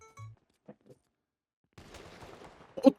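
After near silence and a few faint blips, a short burst of gunfire crackles in GTA 5 during a Batman-versus-humans roleplay match, ending in one sharper, louder shot.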